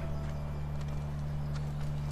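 Horse hooves clip-clop at a walking pace in The Last of Us Part 1 remake, a faint, steady rhythm under a constant low hum with no talk.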